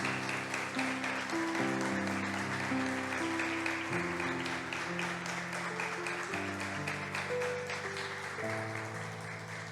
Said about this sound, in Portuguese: Eu gostaria que a igreja desse uma salva de palmas em louvor e adoração ao nome do Senhor Jesus.